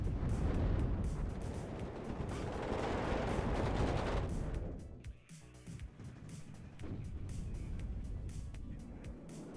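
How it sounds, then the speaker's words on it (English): Mortar fire in the WARNO real-time strategy game: a dense barrage of booming impacts and rumbling blasts, loud at first, then easing into scattered, more distant explosions. "Mortars being used here, I think, for harassment and damage rather than smoke."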